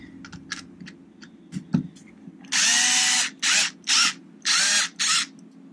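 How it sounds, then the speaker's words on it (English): A small power drill used while fitting the transmission on an ARRMA Kraton 8S RC car: several short whirring bursts close by, each a second or less, separated by pauses, after a few faint clicks and taps. "gotta take it easy on this little drill"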